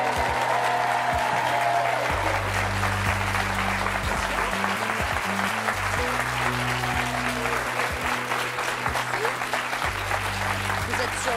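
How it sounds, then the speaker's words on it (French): A French TV talk-show studio audience applauding to welcome two guests, sustained dense clapping throughout, with music playing underneath. "je vous demande d'accueillir et d'applaudir chaleureusement nos deux premières invitées"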